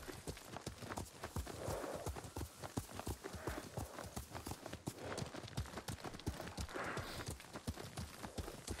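Horse hooves clip-clop at a brisk, steady trot in Ghost of Tsushima, a continuous stream of sharp, fairly close hoofbeats with a quiet ambient background.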